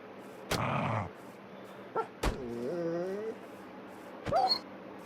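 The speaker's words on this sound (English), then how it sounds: "added new sounds for wolves too" Minecraft wolves give a sharp bark, a short yip, then a drawn-out whimpering whine and another yelping bark, each preceded by a crisp click, all close and clear over a quiet background.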